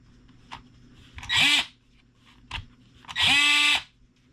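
A Ryobi 18V Jobplus oscillating multi tool buzzes in two short bursts, each revving up quickly, whirring for about half a second and stopping, with faint clicks between.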